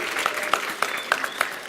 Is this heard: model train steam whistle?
no